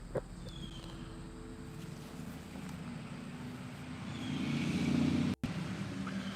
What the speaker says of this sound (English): we have the soothing sounds of chainsaws, semi-trucks, and animals screaming at animals